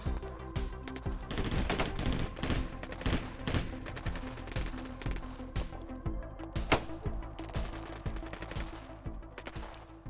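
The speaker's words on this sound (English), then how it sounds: "We're under heavy fire!" Action-film gunfire: dense bursts of automatic weapon fire mixed with single sharp shots, loud and close, rattling on in irregular volleys.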